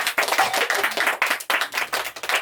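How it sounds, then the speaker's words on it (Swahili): A church congregation claps together in praise, a dense, fast run of hand claps that comes in rhythmic bursts close by and fills the whole short stretch. "Tumpigie Bwana makofi mazuri."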